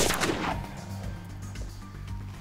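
A single 5.7x28 pistol shot fired over a chronograph opens with a sharp blast, followed by a low rumbling echo that fades over the next two seconds.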